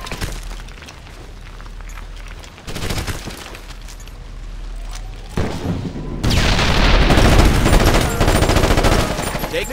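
Gunfire from soldiers' weapons in Ghost Recon Advanced Warfighter, a military shooter: scattered booming shots and bursts that build into dense, loud sustained firing in the last few seconds.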